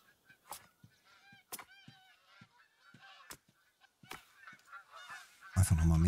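Canada geese honk repeatedly from flocks along the Yukon River in the hunting game theHunter: Call of the Wild, with sharp honks scattered through quiet gaps and a louder burst of noise at the end.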